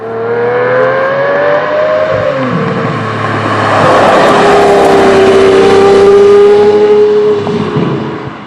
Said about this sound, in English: When you put your foot down at 65, it feels like a normal car starting from 0.